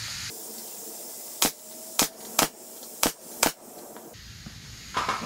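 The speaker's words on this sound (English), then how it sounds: "come back along with your 1 1/4 inch brad nailer and nail everything down" A 1 1/4 inch brad nailer drives nails into wood for a rustic lift-up top coffee table, giving five sharp, loud pneumatic shots in an irregular rhythm over a steady hiss, with a further fainter shot near the end.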